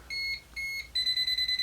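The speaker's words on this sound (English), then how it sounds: "it's going to beep fast and be solid red" A Klein non-contact voltage tester held near a live conductor gives a rapid series of bright electronic beeps, first in two longer tones and then in quick, evenly spaced pulses, close and clear with no talk.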